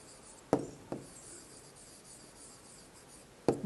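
Pen or pencil writing an answer statement for a class five maths measurement problem, a few sharp taps followed by soft scratching strokes, close and quiet with no talk.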